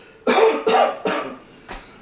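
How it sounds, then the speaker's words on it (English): A dog gives three harsh, raspy coughs in quick succession followed by a softer fourth, close by with no talking, at night. "he was coughing"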